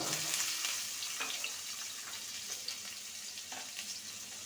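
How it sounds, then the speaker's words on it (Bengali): New winter potatoes frying in mustard oil in a karahi give off a soft, even sizzle and hiss, fairly quiet and close, with faint stirring scrapes and no voices. "আলুটাকে ভেজে নেব"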